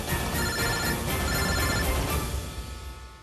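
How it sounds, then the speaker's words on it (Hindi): An electronic phone ringtone trills repeatedly in a steady pattern, then fades out near the end; no one speaks. "इस फोन पे किसका फोन आ रहा है?"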